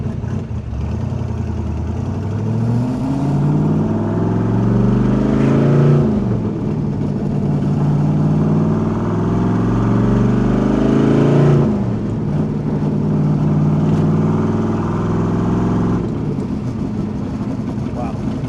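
A 1967 Chevrolet Corvette restomod's throaty 427 cubic inch, 500+ horsepower engine revs up repeatedly in long rising sweeps, loud and close, with deep rumbling between pulls.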